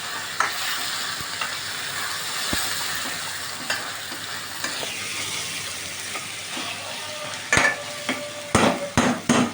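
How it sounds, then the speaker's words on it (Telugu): Mutton sizzles and fries steadily in an iron kadai, a continuous crackling hiss with a few sharp knocks and scraping stirs toward the end, no talking. "మటన్ వేసేస్తున్నా దాంట్లోనే వేగుతూ ఉంటుంది"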